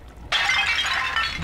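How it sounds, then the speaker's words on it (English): A porcelain tea service in the style of Louis XV shatters in the video game BioShock 2, a sudden loud crash of breaking china that keeps rattling and tinkling for over a second, with no talk. "This, I think, is a porcelain tea service in the style of Louis XV"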